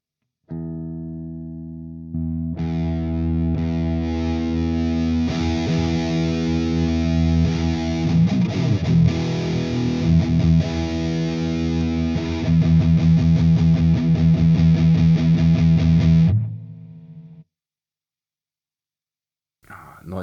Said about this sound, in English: now I'll activate the Tubeking and dial in a nice sound, overdriven, high gainy